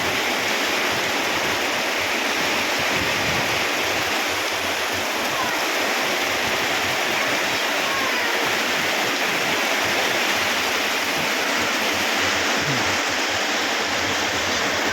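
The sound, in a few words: heavy torrential rain pouring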